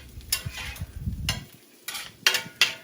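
Oyster mushrooms tossed in a pan with butter, olive oil, garlic and onions: a few short bursts of loud sizzling and scraping, separated by brief quieter gaps.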